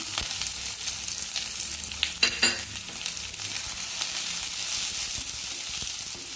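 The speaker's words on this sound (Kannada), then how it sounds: "ಇವಾಗ ಉದ್ದುದ್ದ ಸೀಳಿಟ್ಕೊಂಡಿರೋ ಈರುಳ್ಳಿನ ಇದಕ್ಕೆ ಹಾಕ್ತಾ ಇದ್ದೀನಿ" Long-sliced onions dropped into about four spoons of hot oil for coriander chutney, giving a steady close sizzle with a brief louder burst of frying and stirring partway through, no voices.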